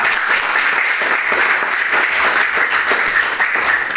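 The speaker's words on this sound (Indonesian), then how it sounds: "Kita beri aplaus kepada kelompok 3." Classroom group applauds Group 3 after their discussion presentation, a steady, dense clapping that holds at even loudness throughout without pause.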